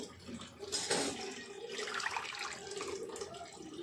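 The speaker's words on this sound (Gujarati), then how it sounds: "તેને હવે તેને આપણે કાણાવાળા ટોપામાં કાઢી લઈશું" Water runs steadily from boiled potatoes tipped into a perforated colander, a continuous splashing wash with a louder pour near the start, recorded close with no talking.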